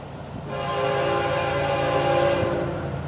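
A loud freight train with auto racks rumbles past close by, its horn blaring in a long sustained blast over the heavy roar of rolling cars.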